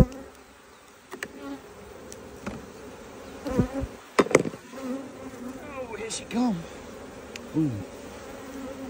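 Honeybees buzz steadily up close at an open hive while frames are pulled, with sharp metallic knocks and brief thuds breaking in partway through.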